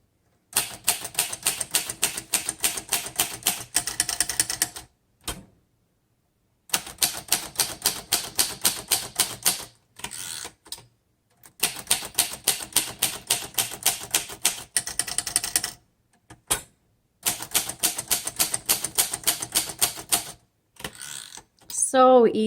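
A 1937 Royal Model O manual typewriter clacks out rapid bursts of keystrokes in close, loud runs separated by short pauses, with a carriage return ding and zip near the end.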